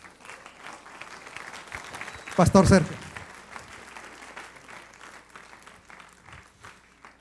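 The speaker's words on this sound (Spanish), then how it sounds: "Denle un aplauso al Señor." Church congregation bursts into brief applause lasting under a second, loud against a quieter room, with a preacher talking before and after.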